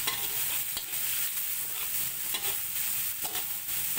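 Chili and tomato stirred and fried in a wok, a steady broadband sizzle with intermittent scraping strokes of the spatula, close and continuous with no talking.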